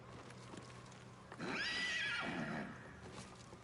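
A horse in a video game lets out a single whinny lasting about a second, rising then trailing off, heard over quiet ambient background.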